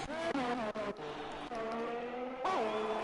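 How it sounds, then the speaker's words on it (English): A Ferrari Formula 1 car in a racing video game at the Singapore circuit, its high-revving engine whining steadily with harmonic pitch shifts as it enters the pits, rising sharply near the end; no talk. "Got a Ferrari coming into the pits."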